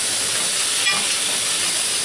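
A lamb roast sears in a hot pan, giving a loud, continuous, even sizzling hiss that holds steady for the whole stretch, close up and with no speech.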